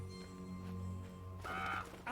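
A single harsh crow caw sounds in the horror game Draugen, a short rasping call rising near the end over a low ambient hum.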